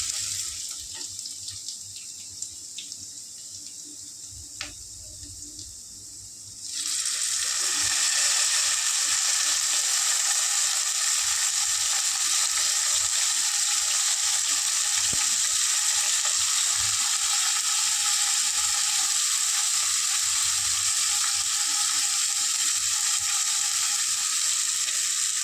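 Onion and tomato paste dropped into a hot pan for aloo mattar paneer curry: a quiet start, then a sudden loud, steady sizzle and crackle that holds close and continuous.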